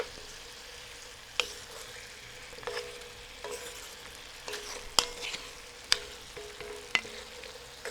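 Potatoes frying in a lidded pan, a low, quiet sizzle with occasional sharp clicks and scrapes of a spatula as they are stirred.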